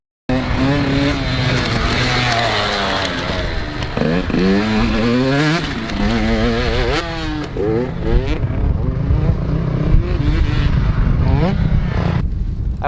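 Motocross dirt bike riding over a step-up jump, engine revving and shifting pitch loudly and steadily throughout with a brief throttle blip, a voice talking over it at times.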